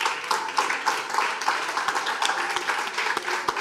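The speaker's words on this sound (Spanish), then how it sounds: "pedirles un fuerte aplauso a mi invitado de esta noche, el señor Andrés Pelaccini." A live audience at a late-night talk show applauds the evening's guest, with steady, dense clapping punctuated by a few sharper individual claps.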